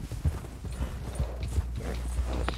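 Horse hooves clip-clop steadily in Red Dead Redemption 2, a quick rhythmic run of close, fairly loud hoofbeats with no talk over them.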